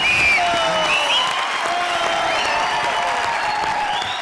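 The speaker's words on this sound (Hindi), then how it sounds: "please give a huge round of applause to Saurabhi" Steady applause from a television comedy show studio audience, dense clapping that fills the whole moment at an even, fairly loud level.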